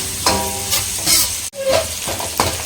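Idli podimas masala sautéing in a pan, with a spoon stirring and scraping in a few strokes over a steady close sizzle, and a short break in the middle.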